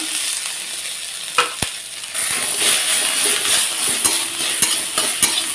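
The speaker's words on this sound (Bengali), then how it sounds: "সবগুলো আমি সুন্দর করে ভেজে নিচ্ছি দেখো আমি আদাটাও সঙ্গে দিয়েছি আর অল্প পরিমাণে কালো জিরা দিয়েছি" Bori, crushed ginger and black cumin frying in a pan for a vegetarian greens dish, a steady close sizzle with stirring scrapes and a few sharp utensil clinks against the pan.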